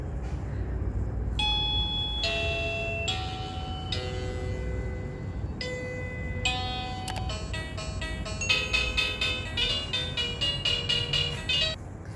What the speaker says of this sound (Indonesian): Di sini untuk bel kan, misalnya ada tamu dari luar mau pencet bel, itu nadanya bisa disesuaikan nih.